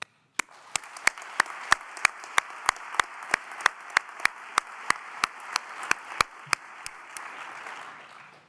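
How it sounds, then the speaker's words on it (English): Audience applause at a midyear graduation completion celebration, a steady wash of many hands clapping with sharp individual claps standing out regularly, sustained for several seconds before fading. "I hope that you will join me in applauding you"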